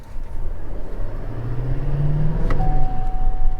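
A 2020 Chevrolet Silverado 3500 pickup towing a trailer drives with a steady, loud engine drone and low hum that rises slightly, joined near the end by a thin whine, with no voices.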